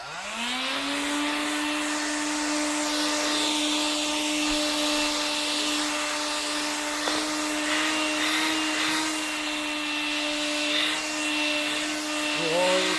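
A vacuum cleaner runs steadily and loudly for the whole stretch, a constant motor whine with a strong steady hum and a broad airy rush, near and unbroken, with only small shifts in pitch, while a cat fights with it.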